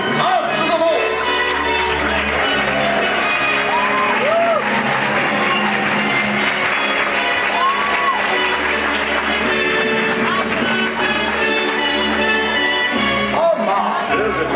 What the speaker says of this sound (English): My lords, my ladies, raise a cheer for the King's Masters of Horse!